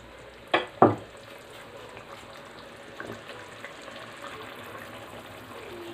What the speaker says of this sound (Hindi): हाफ टी स्पून ब्लैक मिर्च डाल लेंगे, इसको मिक्स करेंगे और थोड़ी देर और पकने देंगे।